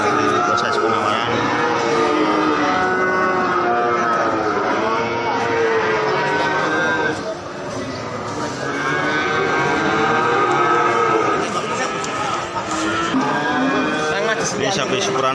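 Cattle at the Ambarawa livestock market, low lowing and moos mixed into a dense, steady market crowd din with voices talking throughout.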